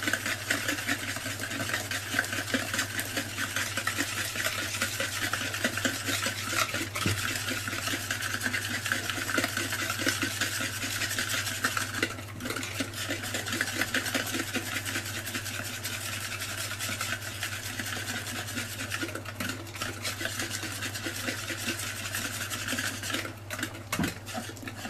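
A small whisk beats continuously through a lemon tart mixture as hot lemon juice is worked in, producing a steady rapid scraping and rubbing against the bowl that runs unbroken for the whole stretch, with no talking.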